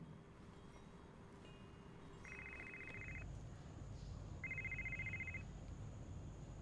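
Two electronic telephone rings, each a buzzy trill lasting about a second, sound over a steady low background rumble with a pause between them.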